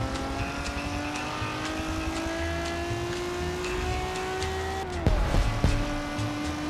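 A 1950s Ferrari race car in the Forza racing game holds a steady engine drone that climbs gradually through the gears. About five seconds in, a sharp shift drops the pitch, and brief louder bursts follow.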